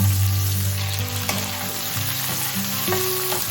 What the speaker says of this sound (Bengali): পেঁয়াজ কুচিটা অ্যাড করে দিলাম